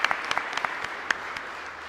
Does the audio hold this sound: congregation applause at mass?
yes